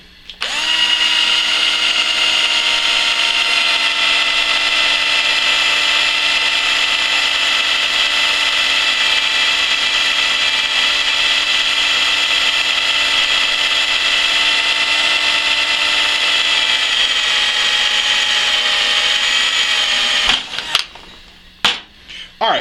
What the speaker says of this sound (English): Drill our second pilot.